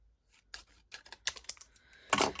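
Scissors snip through paper for a collage in a quick run of short, crisp cuts, close and fairly quiet, with brief pauses between snips.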